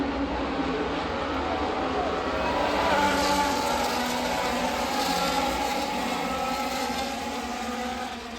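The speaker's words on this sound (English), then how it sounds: "This next clip, this is from the beginning of the F1 race in Japan." Formula 1 race cars at the start of the race in Japan, a continuous dense roar of many engines heard from a distance, steady and washed with crowd and ambient noise.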